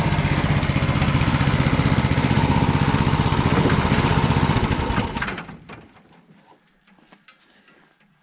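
The small engine of a hay elevator and firewood conveyor runs at idle with a loud, steady, chugging drone close by. About five seconds in it winds down and cuts out, leaving only faint clicks and quiet.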